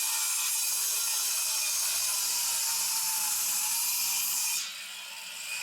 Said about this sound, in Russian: Это циркулярка на болгарке, да?